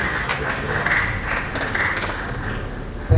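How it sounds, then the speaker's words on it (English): A crowd at a mining conference applauding steadily, a dense patter of many hands clapping at an even level from start to finish. "Let's welcome him with a round of applause."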